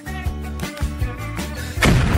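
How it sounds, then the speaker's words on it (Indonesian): A cartoon chocolate explosion goes off as a heavy boom with a bright burst at the end, following a run of thudding beats. "itu adalah ledakan coklat"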